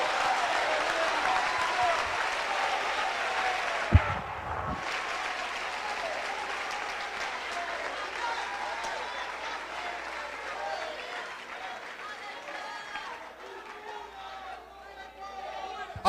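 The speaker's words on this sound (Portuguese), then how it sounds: "Quem entendeu a palavra, aplauda Jesus Cristo." A church audience applauds Jesus Christ during a sermon, a long, sustained round of clapping with cheering voices and crowd chatter mixed in that gradually thins toward the end.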